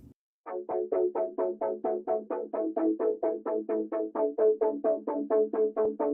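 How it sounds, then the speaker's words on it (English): A guitar harmonic run through effects with a modulator ramp and gate, chopped into a rapid steady train of swelling pulses, about four per second, clean and alone after a brief opening blip. "The first little ambient thing that we have was actually me playing a harmonic on the guitar and then essentially just sending it through effects"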